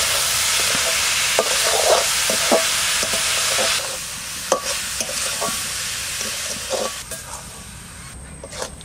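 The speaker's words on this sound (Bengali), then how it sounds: "নারকেলটা চিনি দিয়ে আর দুধ দিয়ে মেখে নিচে কড়াইতে দিয়ে দিচ্ছি।" Grated coconut mixed with sugar and milk being stirred in a wok for coconut sweets, a loud steady sizzling hiss with scraping stir strokes, easing somewhat in the second half.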